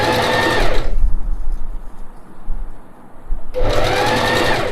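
Sewing machine stitching stretchy bronze fabric for a Mulan-inspired face mask, a loud, close whirring run that pauses for a few seconds in the middle, then starts again, with no talking.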